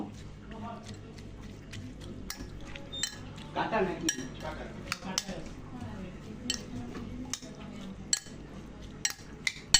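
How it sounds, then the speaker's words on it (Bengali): A spoon clinks and scrapes against a bowl while raita salad with lemon is stirred together, giving quiet irregular taps and wet squishing sounds, close by and fairly soft, with a voice speaking faintly in the background. "তো সব কিছু একসাথে ভালো করে মিশিয়ে নেব"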